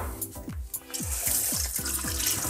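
Running tap water splashes steadily over a whole chicken being washed in a kitchen sink for Georgian-style chicken tabaka, a continuous close stream with shifting gurgles as the bird is turned under the flow.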